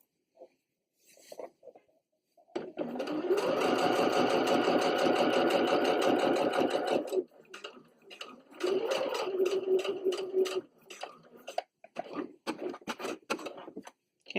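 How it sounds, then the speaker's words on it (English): A sewing machine stitches shiny PUL fabric for a wet bag in two long close, loud runs of rapid mechanical clatter, followed by shorter stop-start bursts and small handling clicks between stitches. "you're sewing with the PULs with the shiny sides touching"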